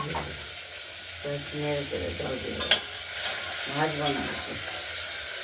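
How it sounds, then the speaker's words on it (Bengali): Raw moong dal sizzles and is stirred in a pressure cooker, with close scraping and a steady frying hiss, while a voice briefly hums or speaks over it. "জলটা সেঁকে নিয়ে প্রেশার কুকারে দিয়ে দিলাম মুগ ডালটা"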